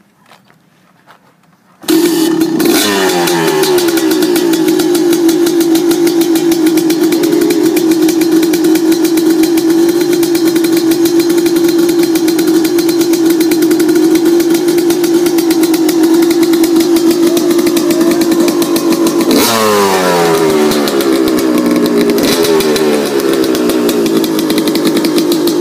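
A 2001 Yamaha YZ250 two-stroke dirt bike fires up after a quiet start and idles loudly and raspily. Two sharp blips of the throttle come late, each surging up and falling back.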